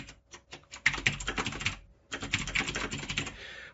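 Rapid keystrokes on a computer keyboard, clattering in quick uneven bursts with a short pause in the middle, close and fairly quiet, with no talking.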